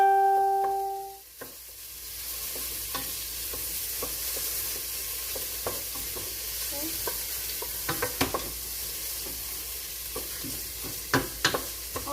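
Onions fry in a pan for spaghetti sauce, a steady close sizzle running throughout, broken by scattered clicks and scrapes of a utensil stirring against the pan, with no talking.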